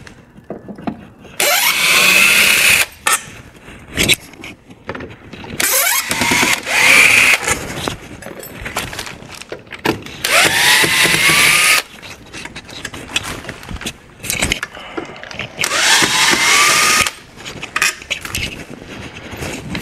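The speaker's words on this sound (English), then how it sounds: "Okay, we removed the screws." A power drill runs in several loud bursts close by, backing screws out of a church window frame, with short pauses and clattering handling noise between runs.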